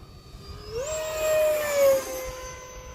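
A model jet whines past at speed, its high-pitched turbine tone rising then falling away as it passes, with no talking.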